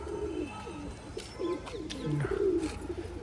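Several loft pigeons coo in repeated low throaty phrases, close and moderately loud, over a constant ambient hiss in a Punjabi rooftop pigeon coop before the summer flying season.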